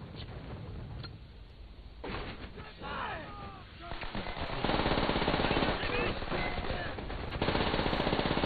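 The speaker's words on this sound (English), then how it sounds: "I like this gun because it's very rapid fire and very accurate" Rapid automatic gunfire in the World War II shooter Call of Duty: World at War, loud sustained bursts that grow denser and heavier in the second half, mixed with game voices and battle noise.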